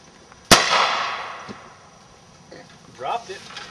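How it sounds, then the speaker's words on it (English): .357 Magnum rifle firing a .38 Special round with a 130-grain full metal jacket bullet: one sharp, loud outdoor crack with a ringing decay, followed a few seconds later by people talking. "this is a comparison shot with a .357 Magnum rifle loaded with a 38 special handgun round with a 130 grain full metal jacket bullet"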